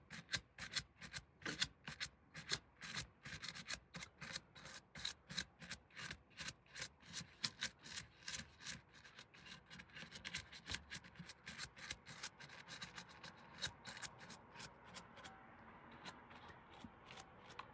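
A brush scrubs heavy grease off a Singer 99K sewing machine in quick, rhythmic bristly strokes, close and fairly quiet, continuing steadily throughout.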